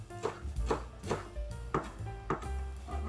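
A knife chops chives on a cutting board for a kimchi egg roll, giving a steady series of about eight soft, evenly spaced knocks, close and fairly quiet, with no talking.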